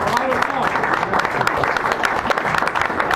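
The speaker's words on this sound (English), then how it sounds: "maybe we should applaud him for that" Café audience at a San Francisco poetry reading breaks into lively applause, dense clapping mixed with cheering voices and chatter throughout.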